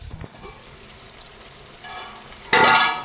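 Fish pieces sizzle softly in a pan for a fish curry and are turned gently, a quiet fry that swells into a louder burst of crackling near the end, with no voices.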